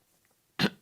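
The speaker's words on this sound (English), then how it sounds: "just now when I had that cough" A single short cough bursting out after a near-silent pause, close to the microphone, with a second cough starting just at the end.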